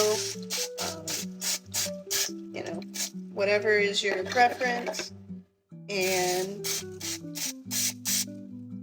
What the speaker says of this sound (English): you're just gonna make sure that you spray it with your cooking spray